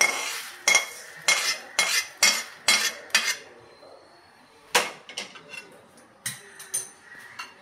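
Roasted moong dal scraped out of a hot kadai into a wide parat, a run of sharp metallic clatters and scrapes, close and fairly loud, with a short pause before a few more scattered knocks.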